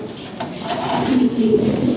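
Pigeons coo in a pigeon market, low throaty calls rising and falling close by over a light background murmur.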